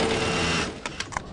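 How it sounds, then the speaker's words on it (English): An industrial sewing machine stitches Stormy Kromer hats on a factory assembly line in Ironwood, a steady close whirring run that stops after about half a second, followed by a few sharp mechanical clicks. "Barbara Willman sews up 300 to 400 hats a day. Once you let the machine do the work, it's not bad."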